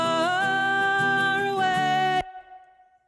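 A short sung vocal phrase with a bright plate reverb, ending abruptly and leaving a smooth decaying tail.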